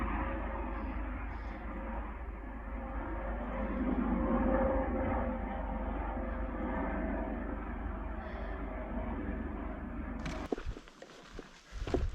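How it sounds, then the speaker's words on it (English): A Coast Guard helicopter flies overhead at Marmot Pass in Olympic National Forest, a steady, moderately loud rotor drone holding for about ten seconds before breaking into rougher, closer rustling noise. "That's a Coast Guard helicopter from Port Angeles."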